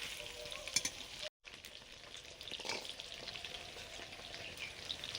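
Cooked rice frying in ghee with already-fried vegetables gives a soft, continuous sizzle, with scraping stir strokes breaking through now and then and a short cut to silence partway through.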